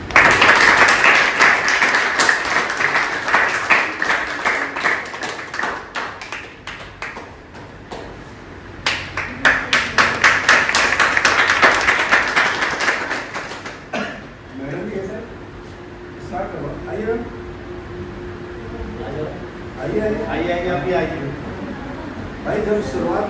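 At a Vestige business meeting, a large hall audience breaks into sustained, loud applause as leaders come on stage, the clapping swelling and then fading, with a voice talking over the room afterward.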